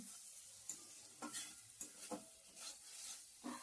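Dried shutki fish tossed with onions in a pan, a spatula scraping and stirring in repeated strokes over a soft, constant sizzle, quiet and close with no talk.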